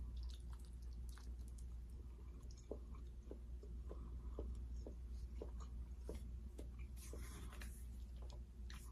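Someone eats a taco made with Trader Joe's organic tempeh, tortilla and lime juice: soft, wet chewing close to the microphone, with a steady rhythm of small squishy bites and crunches, and no talking.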